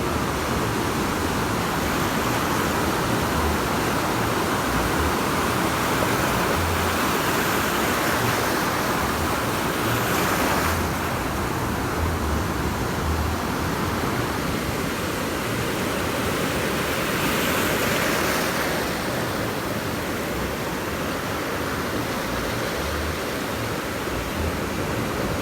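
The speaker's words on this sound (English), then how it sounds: "The waves will start to push my lure back." Ocean surf breaking steadily on a beach during surf fishing, a loud continuous roar of waves close by with slow swells rising and falling, no talking.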